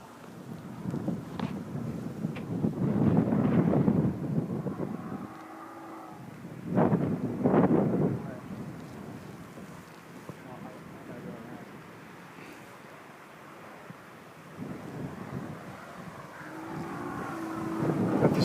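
Gusty wind buffeting the microphone outdoors during a Skyline Sbach 60-inch model plane flight, swelling in rough rumbling waves and then easing, with people talking in between.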